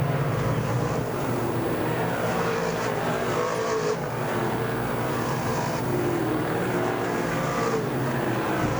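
DIRTcar 358 modified race cars roar around the Merrittville Speedway dirt oval, a dense, continuous engine drone with several cars blended together at close range and no break in the noise.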